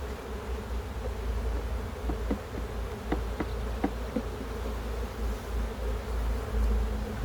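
Honeybees buzz steadily around an open hive during a hive inspection, a soft continuous hum at close range with a few brief clicks and knocks and no speech.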